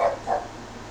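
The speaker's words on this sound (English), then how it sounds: "my dog thinks he's got to bark at it" A dog barks indoors at a city bus stopped outside, giving two quick, moderately loud barks in rapid succession with no talk over them.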